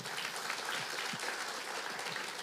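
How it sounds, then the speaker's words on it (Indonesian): Congregation clapping during a church worship service, a dense steady wash of applause across the whole stretch, moderately loud with some faint voices mixed in. "Tepuk tangan bagi Tuhan"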